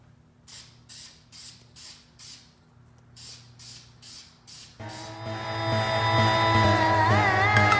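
Short regular bursts from an aerosol spray can coating the lower grille of a Ford Focus ST in light passes, then a loud steady hissing roar with a whining tone takes over, close and without speech.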